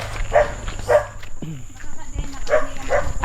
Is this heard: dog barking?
yes